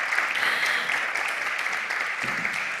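An audience applauds at a public event in Sangüesa, Navarra, with dense, continuous clapping from a crowd, fairly loud and steady from start to end.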